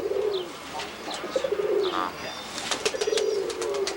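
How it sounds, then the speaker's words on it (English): Pigeons coo repeatedly near a loft, soft low rolling calls recurring throughout with a few chirps from other birds mixed in, close and steady with no talking. "get a couple of close-ups, some of these pigeons"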